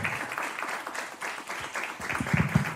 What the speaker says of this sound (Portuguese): eu vou pedir agora um grande aplauso